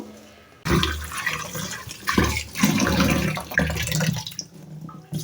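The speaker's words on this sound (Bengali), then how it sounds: "একবার একটু ধুয়ে পানিটা ফেলে নিই" Water poured and swirled over soaked khesari lentils in a kitchen, starting abruptly after a quiet moment, then splashing and sloshing unevenly up close for several seconds.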